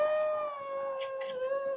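A dog howls like a wolf in one long, sustained, wavering note, close and fairly loud, with no talking over it.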